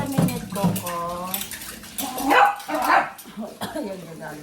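A pet dog barks and yips indoors in short, close, fairly loud bursts, mixed with a person talking over and between the barks.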